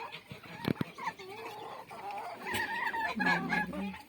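Poultry at morning feeding on a farm, with geese and turkeys clucking, gobbling and calling in short bursts close by, several birds overlapping, a sharp knock near the start.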